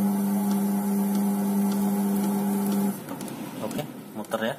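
A Polytron single-tub washing machine spins its drum with a steady, loud motor hum for about three seconds, then shifts to softer, uneven rattling and churning as the spin changes pace.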